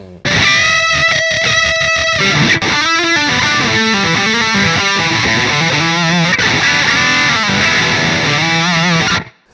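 A distorted electric guitar plays a lead line through an amp simulator plugin, loud and close, with rapid picked notes, bends and sustained squealing tones for about nine seconds before cutting off.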